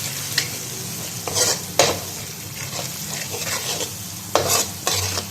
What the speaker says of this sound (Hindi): इसको अच्छे तरीके से मिक्स कर लें।